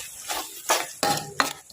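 A spoon scrapes and stirs through jackfruit curry frying with salt and turmeric in a pan, giving a few short, soft bursts of scraping and faint sizzling.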